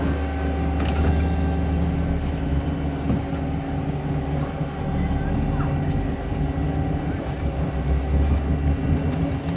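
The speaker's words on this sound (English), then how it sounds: "I'm gonna hop on the bus for a bit and take a shortcut" Inside a moving city bus, a steady low engine and road rumble carries on for the whole ride, with rattles and faint background voices mixed in.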